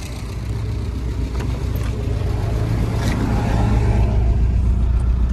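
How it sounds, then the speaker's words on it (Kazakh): A car engine running steadily after being started, a loud close low droning hum that holds even with a slight rise in level, no talk over it. "Тағы да оталдырып қойын"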